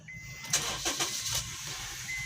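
A 2008 Honda CR-V engine starts on a newly programmed remote key, giving a few short cranking bursts close by in a quiet setting, with no talk.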